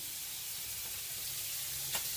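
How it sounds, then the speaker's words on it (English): Chicken sizzles and spits steadily in a hot pan with olive oil, a constant crackling hiss in the background with one brief sharp clink near the end. "You can hear the chicken frying away down in the background."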